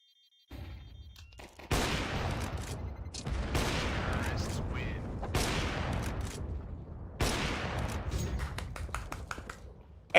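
Rapid auto-sniper gunfire from a Counter-Strike match at a BLAST Bounty 2025 esports finals, arriving in four dense loud bursts of shots over about eight seconds with reverberant tails between them.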